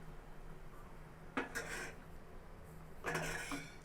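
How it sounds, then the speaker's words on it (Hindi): Spices mixed in a bowl for raw mango chutney: two short bursts of a spoon scraping and clinking against the bowl, quiet and close, separated by near silence. "हम सारी चीज़ों को अच्छे से मिक्स कर लेंगे"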